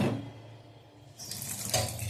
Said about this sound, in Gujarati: હવે આની અંદર આપણે પાણી નાખી અને